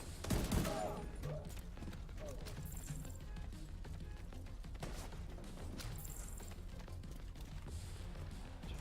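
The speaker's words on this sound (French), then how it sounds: "Sur qui il tire?" Gunfire from The Division 2 video game, a burst of several sharp shots near the start and then scattered fainter reports over steady background noise.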